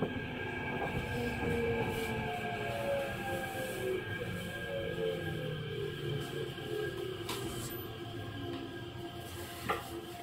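A Tokyo Metro 15000 series train on the Tozai Line runs underground, its steady rumble carrying layered motor whine and rising and falling tones, with faint wheel squeal and a couple of sharp clicks near the end.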